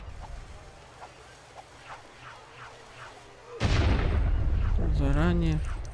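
A sudden loud dynamite blast in LEGO City Undercover hits midway through, sustained roar and rumble afterward with a rising tonal whine, preceded by quieter rhythmic game ambience.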